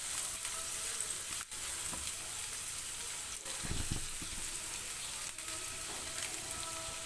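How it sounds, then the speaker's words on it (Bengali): Chopped onions fry lightly in a pan with a steady, soft sizzle, broken by a few sharp clicks and brief stirring scrapes. "পেঁয়াজগুলো হালকা ভেজে নিতে হবে,"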